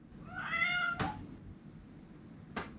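A cat gives a drawn-out, pitched meow lasting about half a second, followed by a sharp knock and then a short second meow after a pause, close and fairly quiet in an indoor room.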